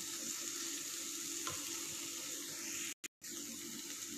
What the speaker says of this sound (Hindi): मसालों को अच्छे से और 1-2 मिनट भून लेंगे।